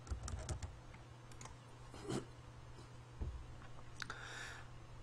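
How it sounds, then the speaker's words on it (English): A PIN typed on a computer keyboard, a short run of soft, close key clicks in quick succession, then a few scattered taps over a low steady hum. "type in my PIN."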